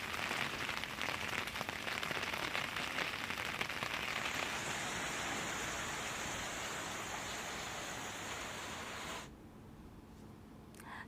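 Heavy downpour in Gandhidham, Kutch, a dense, continuous roar of rain that eases slightly and grows duller toward the end.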